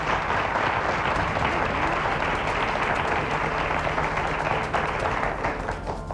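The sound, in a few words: audience applause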